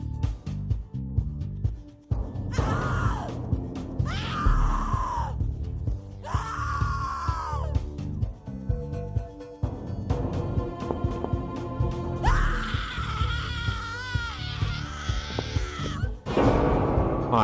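A woman screams in fear in the horror video game The Cat Lady, several long anguished screams and wails in bursts over tense game music and ambience.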